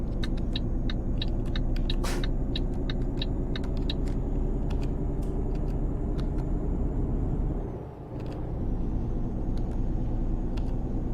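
Truck engine rumble and surrounding road traffic in Euro Truck Simulator 2, a continuous loud low drone with brief hissing bursts like air brakes and a short dip in the rumble near the end.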